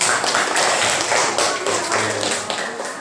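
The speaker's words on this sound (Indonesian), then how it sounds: "Silakan tepuk tangan dulu." A classroom of students applauds a student group after its presentation, a dense, steady wash of many hands clapping close by, fading slightly toward the end.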